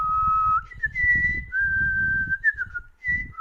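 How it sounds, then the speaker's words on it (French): A tale of a cruel queen is told, and a lone melodic whistle of victory rises and slides between held notes in short phrases, clear and close over quiet background. "Le fabuleux gambade dans la pièce et siffle la victoire de son maître."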